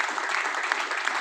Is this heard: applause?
yes